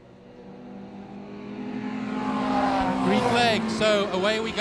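Nissan 350Z six-cylinder race cars at a Power Series 100 km race resume green-flag racing, engines droning steadily, then rising louder with revving and passing cars, a commentator's voice over the track noise.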